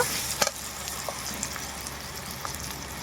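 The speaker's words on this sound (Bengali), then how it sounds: "খুব ভালো করে মশলাটাকে আমি কষিয়ে নেব" Ground spice paste of coriander, cumin, black pepper and dried chilli sizzles and fries in a pan for a goat meat curry, a steady faint crackle with a few small pops and spatula scrapes.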